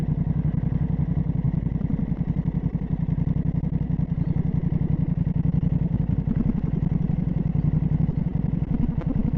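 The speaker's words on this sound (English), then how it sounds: "It's the best performance exhaust, guys. It sounds great. It's not too loud." A Honda CB 750 Hornet motorcycle idles steadily through a performance exhaust, a close, even, rapid pulsing thrum that holds at a constant loud level throughout with no talking.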